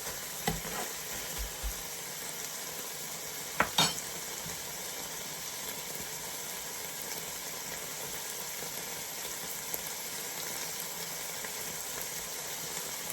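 Chicken breast kebabs, seasoned with coriander, sizzle and fry steadily in a pan, a constant hissing bed with a couple of brief clatters of utensils near the start.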